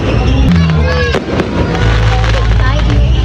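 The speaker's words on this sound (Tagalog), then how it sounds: "may pa-fireworks din pala dito at parang bagong taon na" Fireworks go off at a Christmas village, a dense run of crackling bursts and pops that stays loud throughout over a constant rumble. Crowd noise and voices mix in underneath.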